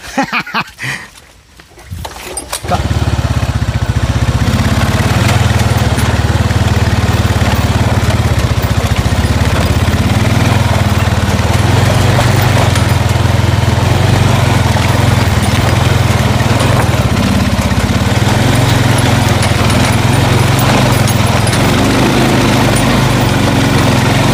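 A motorcycle engine idles steadily and loudly close by for over twenty seconds, starting right after a short quiet moment, with no one speaking over it.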